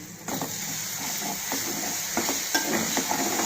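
A spoon stirs mutton keema curry in a pan, with soft scraping strokes over a constant sizzling fry, up close and uninterrupted by talk.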